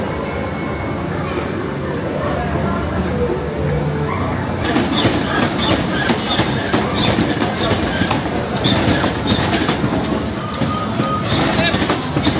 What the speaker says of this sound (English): We're back on this train again.